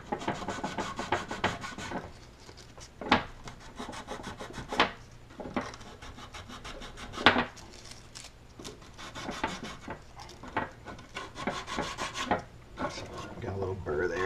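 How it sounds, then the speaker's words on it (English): Sandpaper rubs back and forth over wood on a Zippkits JAE26FE model airplane kit, a close, rasping scratch in uneven strokes with brief pauses, continuing steadily for the whole stretch. "Some good sandpaper here."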